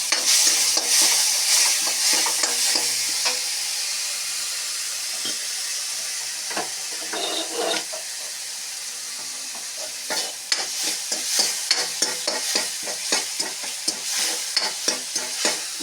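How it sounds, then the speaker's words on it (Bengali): Panch phoron, dried chilli, cumin, turmeric and coriander with a little soy sauce fry in oil in a pan. A constant hissing sizzle gives way to rhythmic scraping strokes of stirring. "মশলা মোটামুটি ভাজা হয়ে এলো।"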